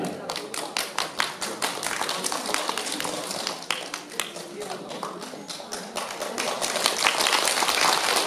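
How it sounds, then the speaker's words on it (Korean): Dense applause from an audience at a Korean award ceremony for a National Assembly committee chair's commendation, with many overlapping claps that build slightly toward the end and a voice speaking faintly underneath. "뜨거운 박수 부탁드립니다"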